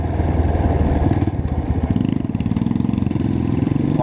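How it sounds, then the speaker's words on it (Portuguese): Dirt bike engine on a trail ride in a group of motorcycles. It cuts out briefly, then restarts into a loud, close, steady idle with rhythmic pulsing. "A moto de desligou e ligou."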